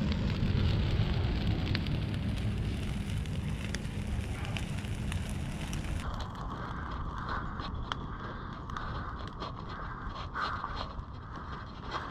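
Bonfire burning after being lit with a weed burner torch outdoors on a rural property, a steady close roar of crackling flames and rushing air with some wind noise, continuous throughout.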